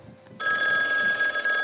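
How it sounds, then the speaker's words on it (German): A telephone bell starts ringing abruptly after a brief quiet moment, a loud, sustained bright electric ring that continues steadily to the end without talk. "Telefon, Telefon, Telefon, Ring!"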